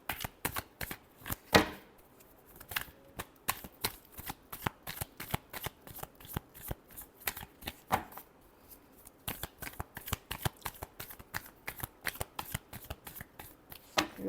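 Playing cards being shuffled during a tarot reading, a dense run of quick riffling snaps and soft slaps with brief pauses between passes, close and fairly quiet with no talking.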